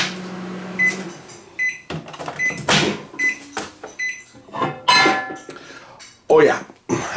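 A Panasonic inverter microwave oven heating water hums and beeps with clicks and a door sound, while a person talks and coughs nearby.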